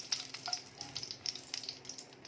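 Two dried red chillies fry in hot oil left over from frying potatoes, giving a close, continuous sizzle with rapid crackles and pops.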